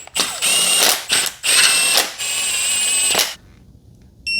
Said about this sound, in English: Then we can draw them in nice and easy with the gun.